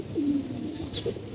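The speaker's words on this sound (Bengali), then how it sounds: "আমার কবুতরগুলো এখন নামবে" Pigeons cooing as they flutter down to land at home, low throaty coos near the start and again later, fairly close and moderately loud, with a faint higher chirp in between.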